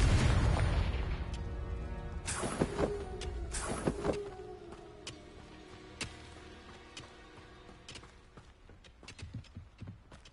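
Confringo blasting spells explode in Hogwarts Legacy on PS5: several sharp booming bursts with crackling magical effects, the loudest pair coming early, followed by smaller scattered pops and impacts as the blasts fade, with no talking.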